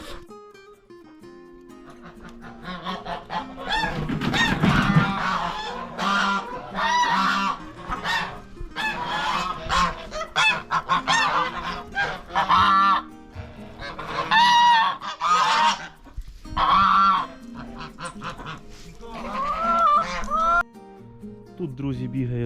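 Geese honking repeatedly and loudly, several birds calling close by in overlapping bursts, with short gaps between calls.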